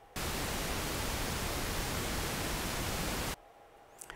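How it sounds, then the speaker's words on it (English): Raw pink noise test signal played through studio loudspeakers, a steady broadband hiss that starts abruptly, holds at constant level for about three seconds, then cuts off into near silence. "We'll start by the raw pink noise here."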